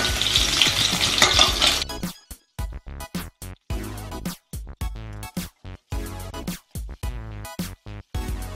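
Pre-boiled potatoes, pricked with holes, fry in oil in a Bengali home kitchen. A loud, steady sizzle runs for about two seconds, then breaks into choppy bursts of spattering as they are stirred and turned.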